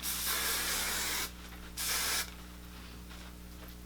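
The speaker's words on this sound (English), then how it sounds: "You can hairspray it again." Hairspray hisses from an aerosol can onto wavy hair in two bursts, a long spray followed after a short pause by a second shorter one, close and steady over a faint background hum.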